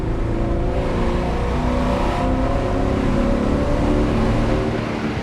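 A Porsche 928S, a fixer-upper project car, revving in second gear while driving, a loud, close engine drone with rising harmonic tones, steady and continuous throughout.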